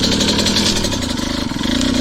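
A small two-stroke dirt bike engine that is not running well idles nearby with a buzzy, rattly sound that wavers slightly in pitch.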